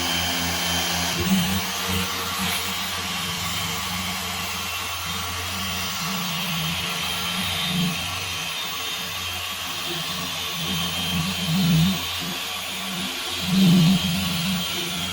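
A car polisher hums steadily while buffing Meguiar's compound into the paint of a Porsche, a continuous motor drone with slight swells in pitch and load as the pad presses against the panel, no talk over it.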